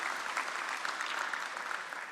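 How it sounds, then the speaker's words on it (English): A conference audience claps in sustained applause, a dense, even patter of many hands heard from a distance at modest volume. "a round of applause to you all for being"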